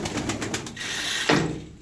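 Smoky-coloured pigeons coo in a loft: soft, low, rolling calls close by, with a steady hiss of background and a slightly louder coo near the end.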